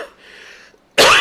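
A single sharp, loud cough bursts out near the end after a moment of quiet.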